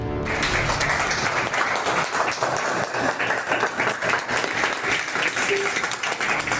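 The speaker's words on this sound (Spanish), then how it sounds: "el argentino fue despedido entre aplausos de los médicos" Sustained, dense applause from a group of doctors fills a hospital space, steady clapping continuing for several seconds with voices mixed in beneath it.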